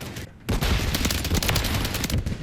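Sustained automatic fire from the STG assault rifle in Modern Warfare III, rapid close shots rattling continuously after a brief quieter lead-in.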